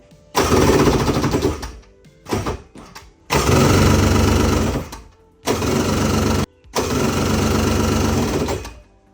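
A cheap 1999 Yamaha jet boat engine cranks over in several loud, close bursts, each churning rapidly for a second or two without catching, separated by short pauses.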